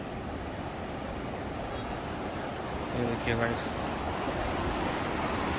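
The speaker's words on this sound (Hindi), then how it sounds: "पानी बह रहा है, पानी की आवाज़ आ रही है।" A stream rushes through a Himalayan valley on the route from Nubra Valley to Pangong Lake, a steady broad wash of flowing water under which someone briefly speaks.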